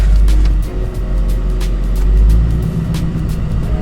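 A 2024 Ford Mustang GT with RTR modifications idles with a deep, steady engine rumble, loud and close, the low throb holding evenly throughout with faint ticks above it.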